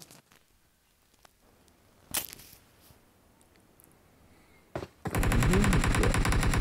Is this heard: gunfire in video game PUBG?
yes